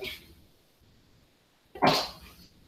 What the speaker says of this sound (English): That whole corner has been just sneezing this entire time